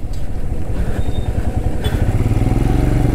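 A Royal Enfield Himalayan motorcycle rides off-road with a steady, close thumping engine pulse, while light clatter and scraping from the rough ground run beneath it.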